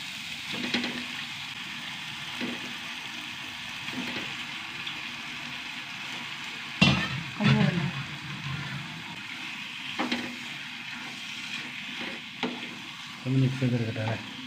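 Chicken and ground masala sizzle in a pan while a spoon stirs it, scraping and clattering intermittently over a constant frying hiss, with a few louder knocks of the utensil.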